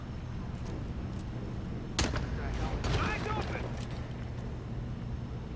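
A single sharp gunshot cracks out in a Hitman video game as a stalagmite is shot, followed about a second later by a burst of crumbling and rattling debris over a low ambient hum.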